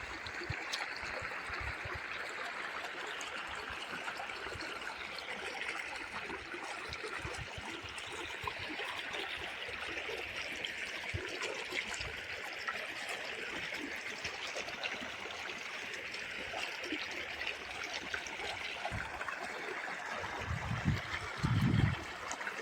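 Irrigation water flows and trickles into a wheat field, a faint, continuous babbling stream with a few louder splashes near the end.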